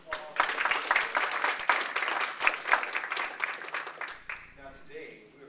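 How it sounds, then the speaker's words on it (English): An event audience gives a round of applause, dense steady clapping from many hands lasting several seconds before tapering off as a voice begins speaking. "If we can give everybody a round of applause."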